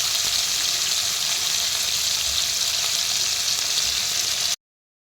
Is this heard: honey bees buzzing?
no